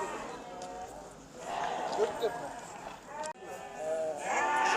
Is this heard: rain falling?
no